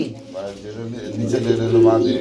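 A pair of Iranian pigeons give low, throaty coos that swell and fade close by, with a voice talking over them.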